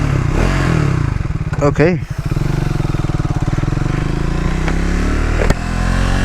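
Triumph Speed 400 motorcycle being ridden, its engine droning steadily close up with a sharp rev swell and wind buffeting, while a rider speaks briefly over the engine noise.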